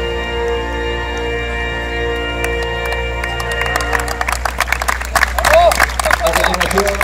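Crowd applause builds at a Fútbol 7 national-team tournament match between Spain and Brazil, starting sparse and swelling into dense clapping over a steady background hum.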